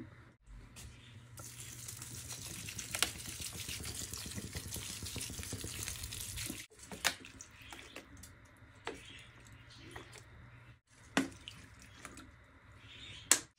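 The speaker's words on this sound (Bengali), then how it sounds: "এখন জিজি প্লান্ট আর বেলে ফুল গাছে পানি দিব।" Water pours and splashes into potted GG plant and bela flower pots, a steady stream for several seconds, then broken by short drips, knocks and clinks nearby.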